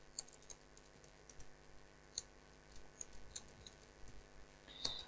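Soft, sparse clicks of a computer keyboard while code is typed, irregular individual keystrokes with a slightly sharper press near the end, quiet and close.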